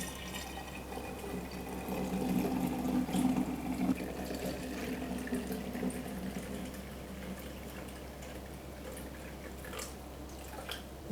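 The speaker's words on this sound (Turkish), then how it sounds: "Çayımı içine süzüyorum." Brewed tea for kombucha pours through a funnel into a bottle as a steady trickling stream, louder at first and then easing to a softer flow with faint drips.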